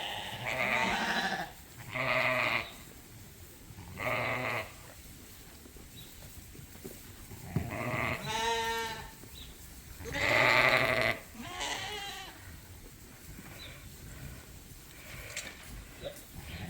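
Sheep bleating in a barn, a nearby ewe calling her lamb with several loud repeated calls and pauses between, over quieter background bleats.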